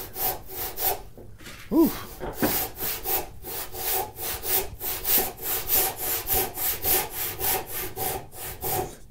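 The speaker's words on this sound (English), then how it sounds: "I'm going to grab my handsaw and just take it down a little bit further." A handsaw cuts through a mahogany board clamped in a vise, its close, steady back-and-forth strokes rasping in an even rhythm, with one brief exclamation from a person early on.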